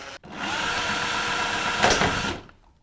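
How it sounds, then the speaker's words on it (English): A cordless power drill runs steadily for about two seconds at close range, a continuous whirring drone that swells briefly near the end before cutting off, with no talk over it. "Have to remember not to drill fast because last time we did, that bit snapped."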